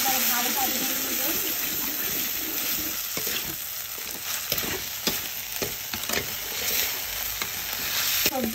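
Vegetables and egg sizzle in a pan for fried rice, a continuous hissing fry broken by scraping stirs and spatula taps, close and steady throughout.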